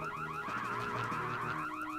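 A steady electronic alarm in a Mission: Impossible video game whoops and warbles continuously, fairly loud and alone, with its rising tones repeating without pause.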